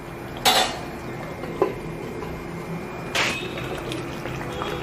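Metal clanks from stirring Chettinad crab masala in a pan and setting a lid on top. There are three distinct, fairly quiet knocks spaced a second or two apart over a soft kitchen background.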